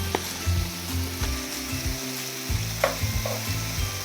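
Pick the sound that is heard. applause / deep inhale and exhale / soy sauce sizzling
soy sauce sizzling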